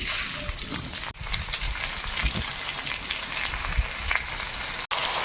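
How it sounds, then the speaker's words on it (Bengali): Soaked Gobindobhog rice frying in a pan, a dense crackling sizzle with gentle stirring rustles throughout and two brief dropouts in the sound. "চাল দিয়ে দেওয়ার পর হালকা নেড়ে চেড়ে দিতে হবে একটু"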